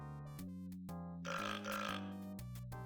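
A cartoonish burp from the Duckman point-and-click adventure game, a gravelly belch that swells briefly over the game's steady low synthesized music.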